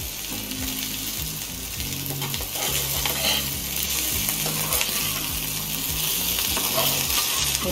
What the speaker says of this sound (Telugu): ఇప్పుడు ఈవెన్గా మసాలా మొత్తం రైస్కి వచ్చేటట్టు మిక్స్ చేసుకోవాలి.